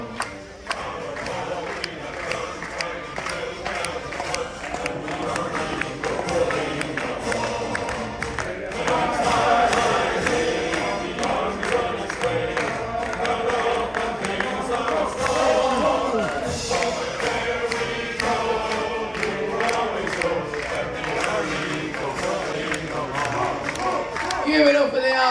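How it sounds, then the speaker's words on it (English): Cruise ship crowd at a military tribute sings and claps along to an army song, a dense, boisterous roomful of voices and rhythmic clapping that swells and carries on throughout. "And everyone clap along like this."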